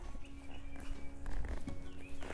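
Horse at a special equestrian sidewalker training session shifting and stepping as a student mounts, with soft irregular hoof clops and tack noise close by, no voices during the moment.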